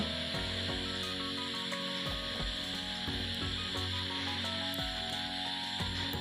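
Rice being stirred and fried in a pan, with a steady sizzle under repeated scraping and rubbing strokes of a spoon against the pan, close and continuous.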